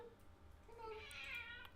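A cat meows faintly indoors, a couple of short rising cries within under two seconds, heard quietly in the background of a live football watchalong stream.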